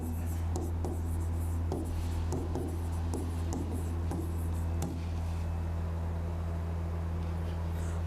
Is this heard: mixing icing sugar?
no